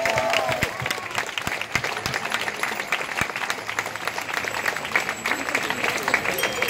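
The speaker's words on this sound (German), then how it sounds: "dass wir einmal einen riesen Applaus an die Fahrradfahrer tun" Crowd at a rally in Hanau applauds cyclists who rode there, a sustained wash of clapping at moderate distance with scattered louder individual claps and faint voices mixed in.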